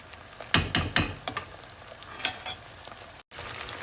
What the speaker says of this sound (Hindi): ये हमने एक टमाटर और प्याज को हम फ्राई कर लेंगे